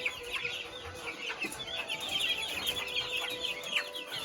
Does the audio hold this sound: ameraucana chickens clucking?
yes